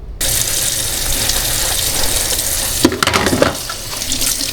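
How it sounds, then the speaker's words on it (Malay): Water gushes steadily from the bleed pipe of a Cuckoo King Top water filter, a loud continuous splashing stream with a brief burst of spattering near the end. "ni function dia untuk kita bleedingkan dia, keluarkan air ni"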